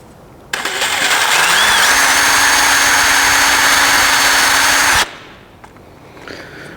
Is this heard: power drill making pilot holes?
yes